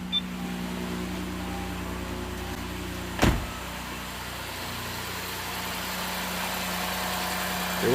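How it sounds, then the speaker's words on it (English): A Honda J35 V6 car engine idles with a steady, low rumbling hum, broken by one brief thump partway through, after a timing belt tensioner replacement. "as the engine runs and the coolant circulates"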